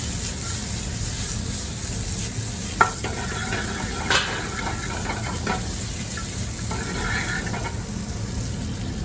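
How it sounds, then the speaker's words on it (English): Blanched green beans sizzle steadily in a hot pan as they are shaken, a continuous frying hiss with a few sharp metallic clinks and scrapes of the pan along the way, with no talking. "put your green beans in there, give them a shake"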